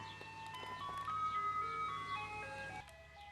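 An ice cream truck plays Scheherazade in a tinkling melody at moderate distance over a low engine rumble, the chimes ringing out in a bright, steady tune before cutting off.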